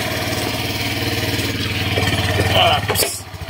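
A motorcycle engine catches and settles into a steady, rhythmic idle close by, with a brief rev near the end. Someone talks over the engine.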